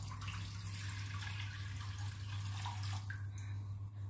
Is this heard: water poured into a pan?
yes